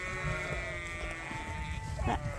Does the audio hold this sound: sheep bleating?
yes